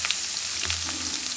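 Garlic and onion frying in a pan for paneer butter masala, a steady close hiss of sizzling oil with a few faint stirring scrapes, no voices.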